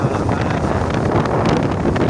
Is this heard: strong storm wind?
yes